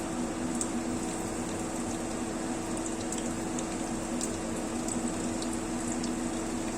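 Cauliflower balls set gently into hot oil in a frying pan give a steady, even sizzle and bubbling hiss that runs unbroken throughout, with no talking.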